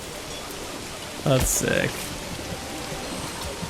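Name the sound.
rain falling in Manor Lords video game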